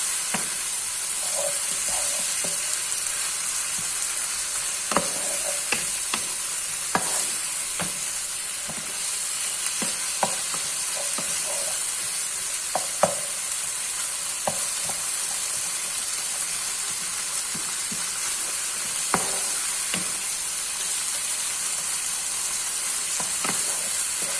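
Minced meat pasta sauce stirred in a hot pan, a constant sizzling hiss broken by frequent sharp scrapes and taps of the utensil against the pan, close and steady with no talk.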